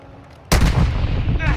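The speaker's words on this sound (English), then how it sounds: "there's a sniper behind us. That's what I got hit by." Sniper rifle fire in Call of Duty: Modern Warfare 2 DMZ mode, a sudden loud blast after a quiet lead-in, followed by a sustained heavy rumble and echoing gunfire texture.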